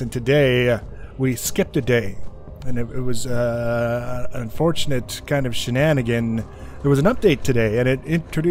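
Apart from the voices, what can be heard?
No everyday noise stands out behind the speech.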